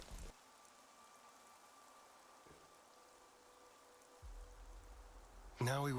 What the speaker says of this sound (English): We're back and it's still raining.